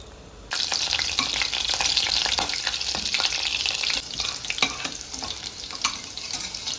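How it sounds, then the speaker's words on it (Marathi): Cumin seeds hitting three spoons of hot oil burst into a sudden loud crackling sizzle that stays bright and steady, with faint stirring ticks underneath. "तीन चमचे तेल, तेल तापून द्यावं चांगलं, त्यात जिरे,"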